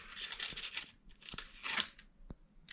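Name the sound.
hand sanding inside an abandoned boat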